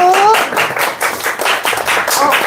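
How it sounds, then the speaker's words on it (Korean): Audience applause at a Korean education information session, a dense wash of clapping filling the room, with a brief voice and some chatter mixed in. "여러분, 박수!"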